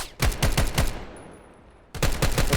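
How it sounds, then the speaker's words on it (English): Bursts of SCAR rifle fire from a 1v1 competitive video game match, two rapid volleys of sharp, evenly spaced shots separated by a quieter gap with a faint ringing tone. "The scar is beautiful with the headshots."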